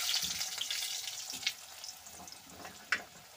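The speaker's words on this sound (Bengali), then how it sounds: "তো এদিকে আমি সবজিগুলো ভেজে নেব। প্রথমে আলুটা দিয়ে দিলাম।" Potatoes frying in a pan for a Bengali-style vegetable khichuri give off a soft, steady sizzle, close and quiet, broken by a couple of sharp clinks from stirring.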